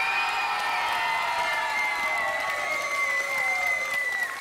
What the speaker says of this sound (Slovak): Veľký aplaus pre žltočervených!